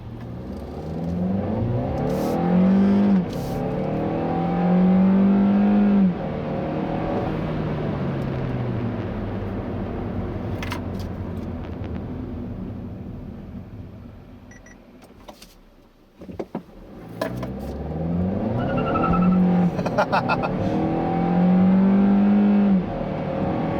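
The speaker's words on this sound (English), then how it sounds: "how good this car feels when you put your foot down" A 2017 Hyundai Elantra Eco 1.4 turbo engine revs up hard through several gears, pitch climbing and dropping with each shift, easing off briefly before pulling strongly again.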